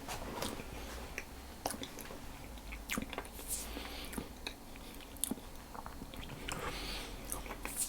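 Close, quiet bites and chewing of a crumbly custard powder cookie, soft crunchy mouth sounds repeating irregularly with no talking.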